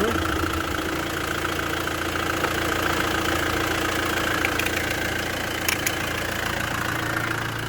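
A used diesel car engine idles steadily with its oil filler cap removed, a constant close mechanical drone with a faint knocking rhythm and no talk.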